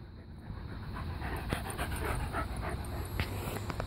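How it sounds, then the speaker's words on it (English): Dogs, including young pups meeting an older dog, pant steadily with a few faint whimpers mixed in, close and continuous over low background noise. "That dog did nothing but try to play with you."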